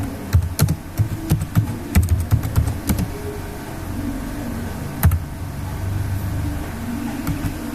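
Fast, uneven clicking of typing on a computer keyboard, entering product tags, close and clear with quick bursts of keystrokes and brief pauses, then quieter scattered taps over a low room hum.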